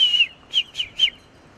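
Several high, thin whistled calls from a kite, likely a young bird, one longer call followed by three shorter ones spaced about a quarter second apart, clear and alone against a quiet background.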